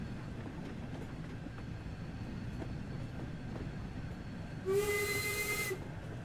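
A steam locomotive in Train Sim World 2 rumbles and chugs steadily, struggling to build steam, with a loud, hissing steam whistle blast near the end.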